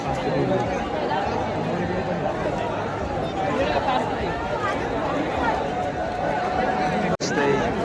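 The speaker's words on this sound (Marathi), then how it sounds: "बघू शकता गर्दी केवढी आहे. रास गर्दी आहे, रास." A dense crowd throngs the Ekvira Devi temple during the palkhi procession, a thick continuous babble of many voices close around, with a brief dropout near the end.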